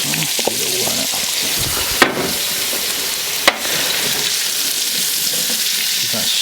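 Chopped onion hitting hot oil in a paella pan on a Kamado Joe grill for chicken and chorizo paella, a loud steady close sizzle throughout with a couple of brief clinks from stirring.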